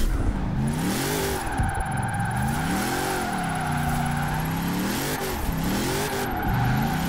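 A car engine in Forza Horizon 4 revs repeatedly, with loud, close, rising and falling sweeps of engine pitch over a constant whine, with no talk.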